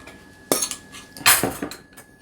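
Hard clinks and clatters of a lid being fitted onto a spice container in a home kitchen while cooking, a few sharp metallic knocks close by with a faint steady hum underneath.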